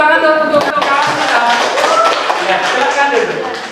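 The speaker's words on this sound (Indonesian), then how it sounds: "beri tepuk tangan untuk kawan kita" Classmates clapping for a student in a classroom lesson on prayer, a short burst of close, loud claps over nearly four seconds with voices faintly underneath.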